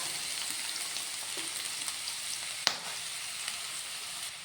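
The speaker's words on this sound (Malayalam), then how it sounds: "ഒരു പാൻ അടുപ്പിൽ വെച്ച് ഒരു ടേബിൾ സ്പൂൺ വെളിച്ചെണ്ണ ഒഴിച്ച് കൊടുത്തിട്ടുണ്ട് ഇനി അതിലേക്ക് നമുക്ക് അരിഞ്ഞു വെച്ചിരിക്കുന്ന ചേരുവകൾ ചേർത്ത് കൊടുക്കാം" Chopped ingredients fry in coconut oil in a pan, giving a soft, steady sizzle with one sharp tap partway through.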